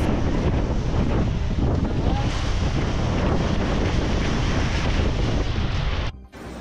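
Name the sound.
strong typhoon winds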